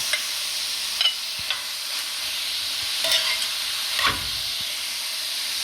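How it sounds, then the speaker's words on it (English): Spicy vegetable fried rice goes into a hot pan and keeps up a steady, close sizzle and hiss, broken by a few soft knocks and scrapes of stirring. "Now I'm going to put the rice in."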